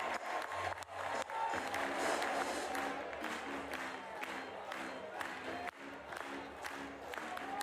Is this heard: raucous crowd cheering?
yes